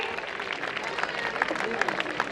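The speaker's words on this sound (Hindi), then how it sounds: "जोरदार तालियों से इनका स्वागत कीजिए।" Audience applause greeting a guest invited onto the stage at a traditional school cultural programme, a dense, steady patter of clapping with murmured voices throughout.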